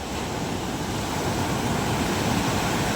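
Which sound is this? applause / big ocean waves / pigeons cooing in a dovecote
big ocean waves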